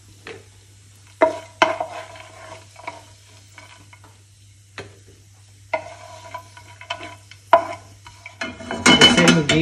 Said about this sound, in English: fry the raisins a bit